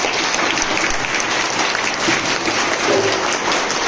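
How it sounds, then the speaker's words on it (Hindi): Steady audience applause for children at a Ram Navami and Hanuman Jayanti celebration, a dense even clatter of many hands with a few faint voices mixed in. "और एक बार फिर से हमारे प्यारे प्यारे सभी बच्चों के लिए जोरदार तालियां हो जाए।"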